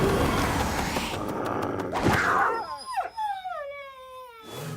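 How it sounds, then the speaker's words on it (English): A cartoon dog howls in long, wavering rising and falling tones after a stretch of rough noise, the howl fairly close and clear. "Do you hear something? Like maybe that dog?"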